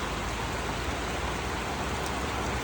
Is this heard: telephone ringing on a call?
no